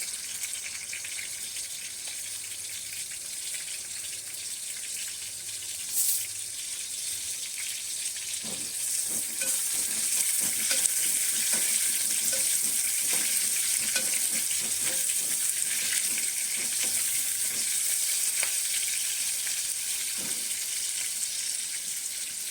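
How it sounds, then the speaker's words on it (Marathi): Green chillies and garlic frying in a pan, a continuous sizzling hiss with scattered sharp pops and occasional spatula scrapes, loud and close throughout. "मिरच्या टाकून घेऊया। थोडी लसूण फ्राय झाल्यानंतर"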